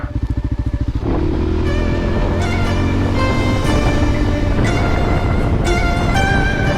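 A motorcycle pulling away over the salt flats of Chaka Salt Lake, a pulsing idle that opens into a loud, steady engine drone with clattering and scraping, close to the microphone and without speech.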